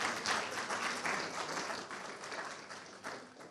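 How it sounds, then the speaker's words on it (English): An audience at a Ghana Institution of Engineering event applauds steadily, a dense crackle of many clapping hands that swells and eases in waves without any speech over it. "Please let's give him a round of applause."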